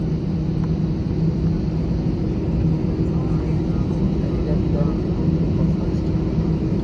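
Cabin interior of an Air Asia airplane at Delhi airport, with a steady, loud engine rumble and hum that holds evenly throughout, and no one speaking.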